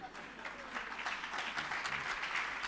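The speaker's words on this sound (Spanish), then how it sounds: "No aplaudan chistes fáciles porque me animan." Audience applause during a lecture on emerging educational technologies, a steady, moderately distant wash of clapping lasting a few seconds with little else over it.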